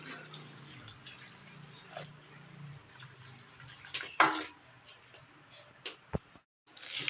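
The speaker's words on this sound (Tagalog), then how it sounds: "Lagyan natin ng tubig." Water is poured into a pan of banana blossom and bihon noodles as they cook, a short splashing gush in the middle among quiet drips, clinks and sizzling.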